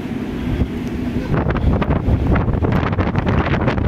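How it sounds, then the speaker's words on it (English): Strong wind at a university computing cooling hall buffets the microphone in a loud, continuous roar that gusts harder partway through, with no talking. "Wow, it's windy."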